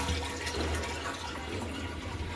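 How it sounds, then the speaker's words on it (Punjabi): Water pours into a storage tank, a steady, broadband rushing flow that stays constant from start to finish with no voices. "ਹੁਣ ਚਲੋ ਆਪਣੀ ਟੈਂਕੀ ਵੀ ਭਰ ਗਈ"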